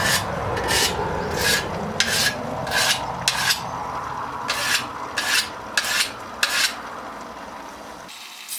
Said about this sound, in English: This is the whetstone that I made from a rock up on the hill here